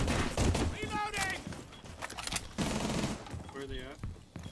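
Gunfire bursts from the tactical shooter Rainbow Six Siege, with rapid automatic fire crackling close and loud over game sounds while a player talks throughout.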